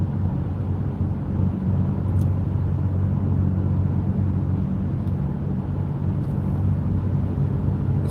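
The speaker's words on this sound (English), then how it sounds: "This road makes you feel like something's wrong with your car. It makes this terrible sound." A car driving over a rough, bad road produces a continuous low rumble and droning hum, steady and fairly loud throughout, with a few faint high ticks.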